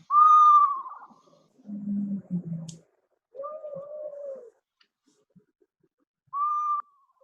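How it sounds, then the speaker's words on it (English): A screech owl gives a few whinnying, horse-like whistled calls in separate bursts, some descending and some low and trilling, clear and close with quiet gaps between them. "screech owls have kind of like a little whinny sort of sound, like a horse"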